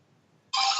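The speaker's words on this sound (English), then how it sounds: "Brandon's ringtone aside." A phone ringtone bursts in abruptly after a near-silent half second, bright and loud, continuing to the end.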